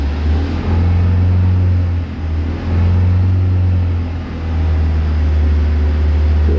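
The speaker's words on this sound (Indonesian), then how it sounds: "Dan ini aku bakalan coba ngegasin mobil." A campervan engine runs with a deep, steady drone that swells as it is revved, dips briefly, then holds at a loud, even hum close by.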